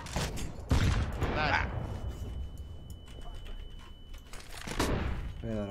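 Bursts of gunfire crackle in a first-person shooter match, with short sharp volleys near the start and again near the end. Players talk excitedly over the shots.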